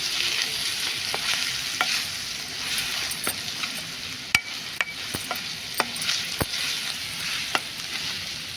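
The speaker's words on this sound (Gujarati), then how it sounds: "તો હવે આપણે લસણિયું મરચું ઉમેરી દઈશું. મિક્સ કરી લઈશું." Garlic chili paste fries in oil in a kadai while being stirred, a loud continuous sizzle broken by sharp scraping clicks of the spoon against the pan, close and with no talking.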